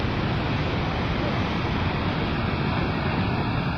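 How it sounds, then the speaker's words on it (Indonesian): Big ocean waves still rolling in at Kosakora and Drini beach after a spell of heavy surf, a steady, loud, broadband roar of surf mixed with wind buffeting the microphone throughout. "Ombak masih lumayan besar nih."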